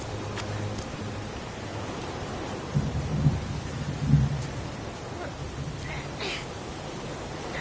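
Steady rain hisses throughout a thunderstorm scene in the video game Heavy Rain, with low thunder rumbling in a couple of close bursts midway.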